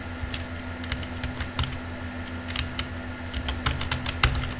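Fingers type on a computer keyboard, irregular bursts of close, light clicking keystrokes with short pauses in between over a faint steady hum.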